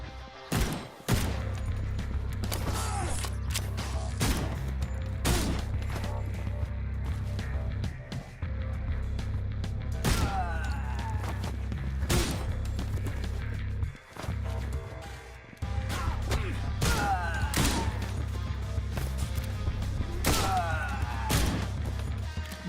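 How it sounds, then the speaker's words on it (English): Rapid bursts of gunfire crackle through a beat-em-up video game, dense and loud for most of the stretch with a few brief pauses and occasional thuds, over a steady low game drone. "Did we shoot each other at the same time?"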